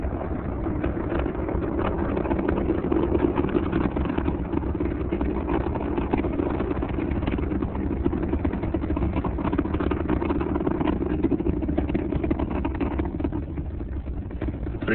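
The three main engines of Space Shuttle Atlantis roar steadily during the STS-44 launch climb, a dense, unbroken rumble heard through a muffled broadcast feed.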